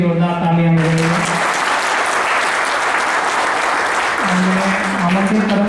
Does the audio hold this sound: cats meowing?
no